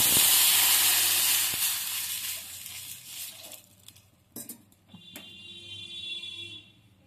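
Hot oil with dried chili, mustard seeds and hing sizzles loudly and hisses, then water is poured in, the sizzle collapsing into quieter bubbling and short clattering bursts.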